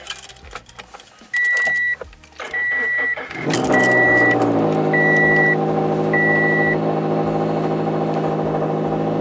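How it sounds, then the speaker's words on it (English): A car engine cranks and fires up after a tune flash, preceded by a few short electronic beeps and key sounds, then settles into a steady, loud idle that runs to the end. "Now we start the car."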